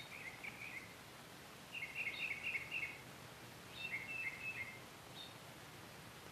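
Small birds chirping in a backyard garden near a bird bath, a few short high twittering bursts separated by pauses over a faint steady hiss.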